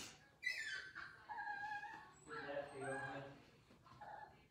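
Puppies whimper and whine in thin, high cries, several short bursts across a few seconds fairly close by, with faint rustling and no clear talk over them.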